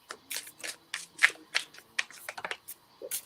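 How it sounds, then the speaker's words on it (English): Cards are shuffled close by, a quick run of crisp riffling snaps and flicks in an uneven rhythm, with no voices. "And now there was silence. Just the sound of shuffling."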